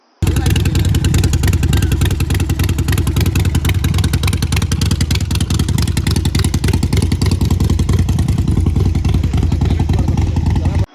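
A Harley-Davidson 48 Special's V-twin engine runs close by with a loud, rapid, lumpy throb and a deep rumble, holding a steady beat throughout.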